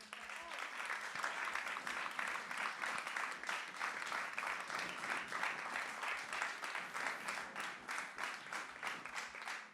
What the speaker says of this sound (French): je pense qu'on peut encore vous applaudir